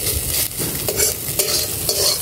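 Boiled, salted meat is stir-fried in oil in a wok over a clay stove on a rooftop, for mixed chowmein. A loud, close, continuous sizzle is punctuated by rhythmic scraping strokes of stirring.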